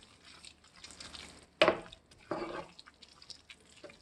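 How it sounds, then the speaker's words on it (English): Butter being stirred into a creamy mushroom risotto in a pan off the heat, soft wet squishes and scraping with two sharper splats of the spoon, close and quiet, no talk. "I'm going to add some butter and stir that in."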